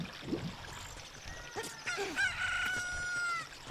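A full-grown chicken in The Legend of Zelda: Ocarina of Time lets out a few short clucks, then a long stretched crow, close and clear with no talk.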